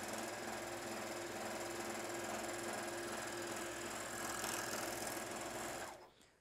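A JUKI MO-1000 serger stitches through doubled cotton home decor fabric with a steady, loud mechanical whirring and rhythmic chatter that runs continuously for several seconds, then winds down and stops.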